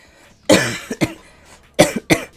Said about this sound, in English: Sorry for coughing at you guys.